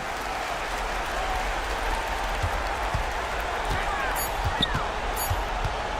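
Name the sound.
home crowd cheering in a basketball video game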